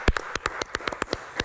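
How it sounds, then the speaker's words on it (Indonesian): A few people clap in a health talk show, around ten sharp, uneven claps over a second and a half, close and fairly loud with no voices. "Tepuk tangan dulu deh"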